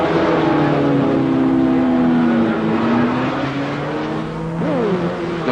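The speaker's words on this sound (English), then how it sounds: "the Leston Rothschild TR, which had initially led the team, sets off from the pits for the last time." A Triumph TR race car at the 1960 Le Mans 24 Hours pulls away from the pits, its engine note rising and falling steadily under a loud, continuous roar of race noise.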